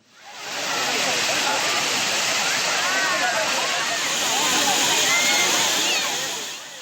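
Kumbakkarai waterfall in Theni district, Tamil Nadu, gives a loud continuous roaring rush of falling water that swells in quickly and holds steady throughout.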